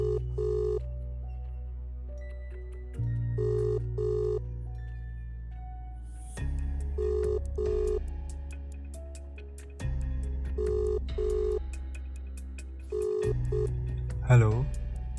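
Telephone keypad tones and repeated ringing pulses in a regular on-off pattern, close and clear, with brief background music.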